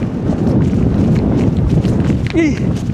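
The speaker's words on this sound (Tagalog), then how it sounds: "Solid, napakalakas ng hangin." Strong mountain wind buffets the microphone in a continuous loud roar and rumble, with a voice calling out briefly near the end.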